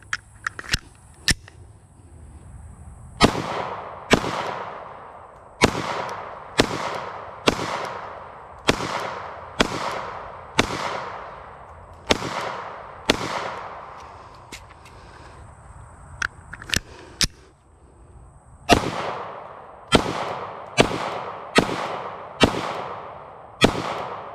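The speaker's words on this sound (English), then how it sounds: "let's put some rounds down range" A Glock 48 MOS pistol fires at a target on a range, sharp loud cracks in brisk strings with short pauses, roughly twenty shots ringing out one after another.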